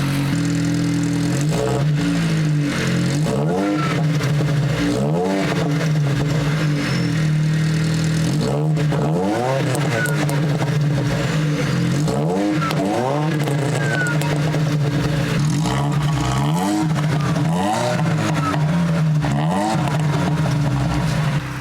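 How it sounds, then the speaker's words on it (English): A Ford Focus Mk1 exhaust revs loudly again and again, each rev rising sharply and falling back to a rumbling idle, with an occasional crackle between revs. "You guys want to hear what the exhaust sounds like?"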